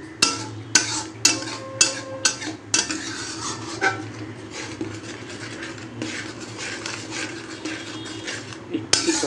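Spice paste with a little water being stirred in a pan for pomfret curry, with a steady run of metal utensil scrapes and clinks against the pan over a soft sizzling bed, close and fairly loud.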